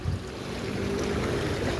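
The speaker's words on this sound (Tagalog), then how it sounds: "Medyo okay naman yung daloy ng tubig." Water in a creek flows in a steady, fairly loud wash with no breaks and no voices.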